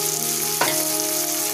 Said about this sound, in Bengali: এরপর আমি আদা কুচিটা দিয়ে দিলাম